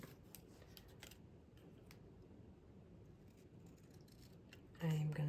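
Scissors trim a thin sliver off a sheet of cardstock for a handmade mini album, making soft, quick snips close by at a low level, with a louder handling rustle at the end.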